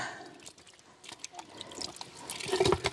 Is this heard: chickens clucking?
no